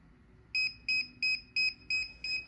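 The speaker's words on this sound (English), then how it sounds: "Then this controller beeps." A DJI Smart Controller gives six short, high electronic beeps in an even rhythm, close and clear against a quiet background.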